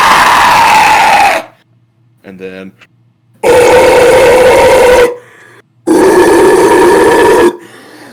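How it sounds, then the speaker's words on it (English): A metal vocalist screams three sustained, loud bursts of about one and a half seconds each, the first higher-pitched and the later ones lower and gruffer, separated by brief pauses with a short spoken aside between them. "Like high screams are way louder than low screams for most people"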